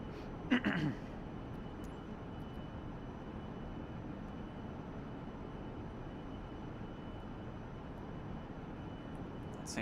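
A single-engine aircraft in Microsoft Flight Simulator 2024 revs as the throttle is pushed up, a steady droning hum that holds for several seconds after a brief click at the start.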